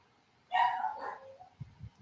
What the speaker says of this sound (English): you can kind of hear my dogs currently right now, right?